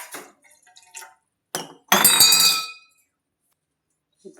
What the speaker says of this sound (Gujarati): થોડું પાણી નાખી